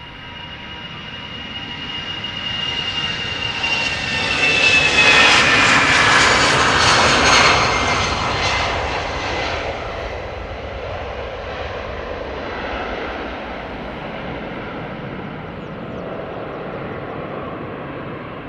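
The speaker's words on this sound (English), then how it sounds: "EasyJet, Airbus A319, outbound Liverpool." An EasyJet Airbus A319 jet passing at Amsterdam Schiphol Airport, a broad engine roar swelling to a loud peak with a whining tone sliding down, then fading into a long distant rumble.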